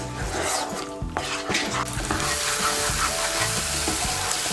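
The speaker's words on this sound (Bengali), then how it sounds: "মিশিয়ে নিয়ে মশলাটাকে ভালো করে কষিয়ে নেব।" Salted masala paste for cauliflower korma sizzles in a pan while a spoon scrapes and stirs it, with repeated close metallic clinks over a continuous frying hiss and no voices.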